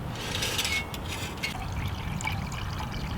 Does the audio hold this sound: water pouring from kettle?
yes